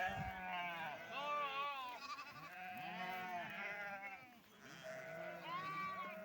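A flock of sheep bleats near a farm field, many animals calling over one another in a dense, continuous chorus of overlapping high cries.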